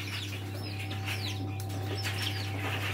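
Chinese quails flutter and flap their wings in short rustling bursts near the microphone, over a steady low mechanical hum from a warm brooder.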